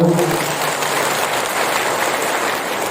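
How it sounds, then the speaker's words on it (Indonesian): An audience at a large open-air Islamic tabligh akbar gathering at the Baruga of the Buton Sultanate palace in Baubau applauds steadily, a dense wash of clapping that holds at an even level for a few seconds. "Boleh tepuk tangan untuk beliau"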